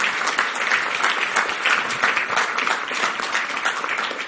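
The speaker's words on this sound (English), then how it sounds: "Can we have a nice round of applause for them?" A conference keynote audience gives a sustained round of applause, dense and even clapping that stays loud from start to finish.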